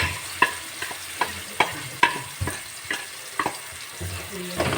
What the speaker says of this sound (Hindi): अभी हम इसके अंदर डालते हैं लहसुन। और साथ ही हम इसके अंदर डालेंगे मसाले।